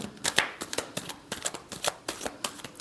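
Tarot cards are shuffled in quick, rhythmic riffling bursts, close and crisp, repeating steadily over a few seconds.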